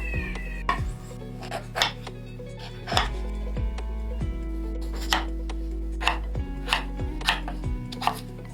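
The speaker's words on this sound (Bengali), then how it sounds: "ঝিঙে আর আলু একটু লম্বা লম্বা করে কাটো।" Knife chopping ridge gourd and potatoes into long strips on a board in slow, spaced strokes, about ten distinct cuts over a low steady hum, no voices.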